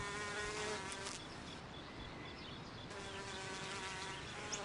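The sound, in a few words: honeybee collecting nectar from purple Cuphea flower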